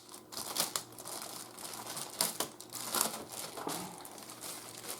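A plastic bag holding a Temu accessory bag is opened: close, irregular crinkling and rustling bursts over several seconds with no talk.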